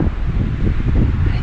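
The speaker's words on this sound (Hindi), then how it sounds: "बहुत ज़्यादा हवा चल रही है।" Strong wind gusts through a snowy Himalayan forest at high altitude, a steady broadband rush with low rumbling buffeting, loud and continuous with no voices.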